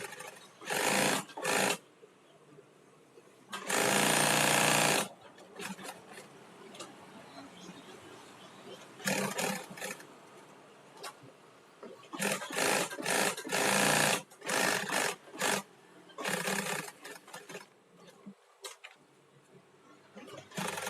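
Sewing machine doing single and double stitching runs in loud, fast bursts of a few seconds each, separated by pauses where a person speaks.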